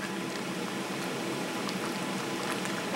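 Ginger beef gravy bubbling in a cast iron wok with bok choy, a steady dense simmering hiss and crackle that stays even and close for the whole stretch, with no voices.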